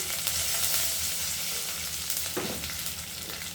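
Curry leaves dropped into hot oil for a one-pot tamarind kuzhambu, sizzling and crackling steadily and fairly loud, with no voices over it.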